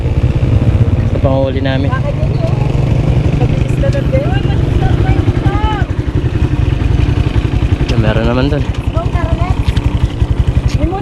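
A motorcycle engine runs steadily throughout with a loud, rapid idling putter, close by, while people talk over it.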